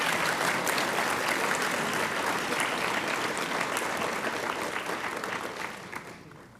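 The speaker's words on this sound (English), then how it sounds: "you can all give them all a big round of applause and make as much noise as you want." Audience applause and cheering at a white coat ceremony for nursing students, a loud, dense crowd clapping that holds steady for several seconds, then thins and fades away toward the end.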